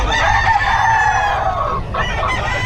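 Chickens and roosters at a poultry yard in Bocaue, a loud close crow rising and holding, with clucking around it and no talk.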